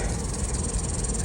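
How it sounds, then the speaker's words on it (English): A fly or bee buzzes close by on someone's arm at a campsite, a steady, unbroken drone that holds at an even level throughout with no talking. "There's a fly or a bee on my arm."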